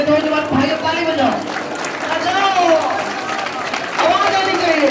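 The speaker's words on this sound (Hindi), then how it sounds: "और जोर से मेरी बहनों जोर से ताली बजाओ" A congregation claps hands in loud, continuous applause at a Christian sermon, while a voice calls out over the dense clatter.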